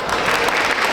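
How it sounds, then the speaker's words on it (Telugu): Loud, continuous applause from an audience at a Telugu Sankranthi celebration stage event in North Texas, a dense steady roar of clapping filling the whole second without a break. "ఒకసారి గట్టిగా క్లాప్స్."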